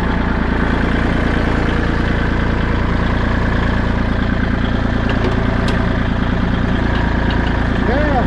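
An auger's engine runs steadily while it hauls a log on rural property, a continuous loud mid-to-low rumble with a faint knocking texture that holds throughout.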